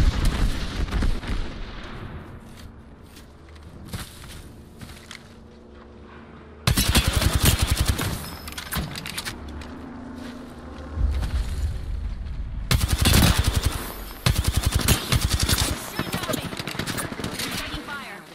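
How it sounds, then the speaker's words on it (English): Bursts of gunfire and booming impacts in the Apex Legends battle royale game, loud volleys breaking in sharply amid quieter stretches, with a person talking intermittently between the shots. "These guys have been shooting at us for like 5 minutes."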